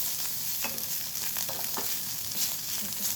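Bitter gourd frying in a pan: a constant close sizzle with a few scraping stirs breaking through, no speech.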